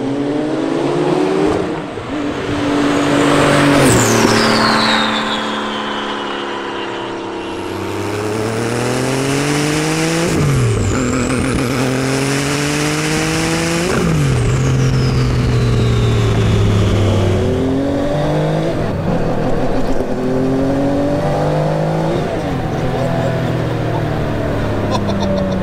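A 940 bhp fully built Porsche 993 911 Turbo accelerates hard on full boost along a street, the engine climbing through repeated gear pulls with loud rising revs, short breaks between shifts and brief tire noise.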